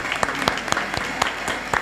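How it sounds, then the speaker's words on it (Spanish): Audience applause for the dancers of a folk group at a televised peña, steady clapping with sharp accented claps recurring about every quarter second, close and fairly loud. "otro aplauso para los bailarines"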